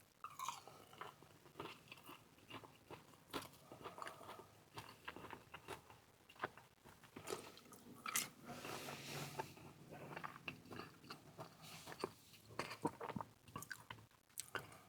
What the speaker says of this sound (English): let's try a fry first. Have a good meal. The fries are very salty.